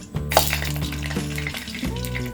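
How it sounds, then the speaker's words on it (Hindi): A teaspoon of mustard seeds drops into hot oil in a pan for masala dosa filling, giving a loud close sizzle with some crackling and stirring throughout. "तेल गरम हो गया है। अब हम इसमें डालेंगे 1 टीस्पून राई मस्टर्ड सीड्स"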